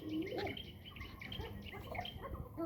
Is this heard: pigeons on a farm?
yes